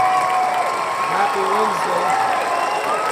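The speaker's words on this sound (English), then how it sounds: "Oh my gosh, that's a lot of cheering." A crowd cheers and applauds steadily throughout, a dense wash of clapping and shouts at an open house session, while someone speaks a short greeting over the noise.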